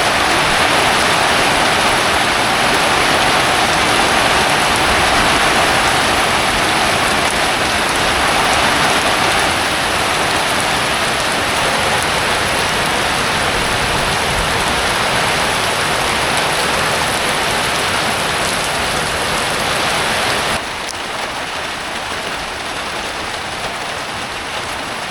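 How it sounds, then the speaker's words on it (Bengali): Steady light rain falling on a village in the monsoon season, a continuous dense patter that stays even and close throughout, dropping slightly in level near the end, with no voices. "টিপ টিপ বৃষ্টি পড়ে।"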